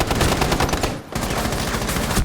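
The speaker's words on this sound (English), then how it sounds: "he reloads and the Buck does get him" Rapid automatic gunfire in Rainbow Six Siege, heard during a competitive match: a loud, continuous burst of shots, briefly broken by a short pause before the firing resumes.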